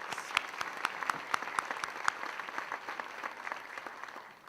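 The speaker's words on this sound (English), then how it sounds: "Let's give them a round of applause." Steady applause from a crowd, many hands clapping together at moderate volume, fading slightly toward the end.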